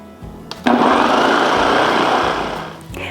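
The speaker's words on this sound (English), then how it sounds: "This happens to be a Ninja and I love it, but again, you can use any food processor you have" A Ninja food processor grinds hot chocolate mix into a fine powder, its motor starting abruptly with a loud, steady whirring roar that runs for a couple of seconds before winding down.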